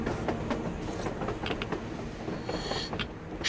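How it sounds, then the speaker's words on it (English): Rail cars rumble by on the surface in Metro Exodus, a steady rolling train noise with soft clacking of wheels, moderately loud and uninterrupted, with nobody speaking. "A damn train on the surface."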